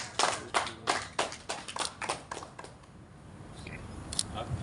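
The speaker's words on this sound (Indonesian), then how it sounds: "kita berikan aplaus sekali lagi" Applause at an Indonesian inauguration ceremony for a Hindu broadcasting body: a burst of crisp, close hand claps that thins out and fades within a few seconds, leaving quiet room noise with a couple of stray claps.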